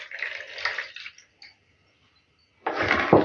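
Warm water poured from a full 250 ml glass into yeast dissolved with sugar for pizza dough, a close splashing pour that breaks off, then a louder burst of pouring and stirring after a short silence.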